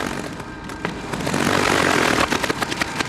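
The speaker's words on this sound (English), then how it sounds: "But suddenly, my motor starts making some horrible sounds." A failing boat motor drones loudly and roughly with uneven sputters and knocks, heard close and constant throughout.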